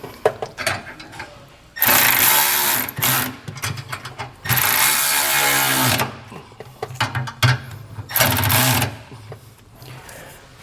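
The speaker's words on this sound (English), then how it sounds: "Now we'll go ahead and tighten those down with a 13." Flange nuts on a B and W fifth wheel underbed kit in a 2022 Ford F-350 Super Duty are tightened with a 13 mm socket, giving repeated bursts of loud whirring power-tool ratcheting between short pauses and clicks.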